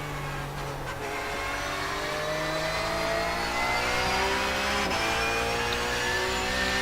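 Race car engine in the iRacing sim at Watkins Glen, running steadily loud with rising and shifting revs through gear changes, continuous and close throughout with no talk.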